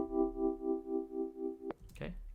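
A synth note carries a deep wobble effect at negative 25.5 dB in Logic Pro X, swelling and fading in a steady rhythmic pulse for about a second and a half before stopping with a click, followed by a brief voice.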